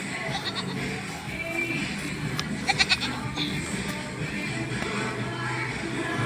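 A small goat kid bleats in a few brief wavering calls over a steady outdoor background on a farm where goats are herded, at moderate distance.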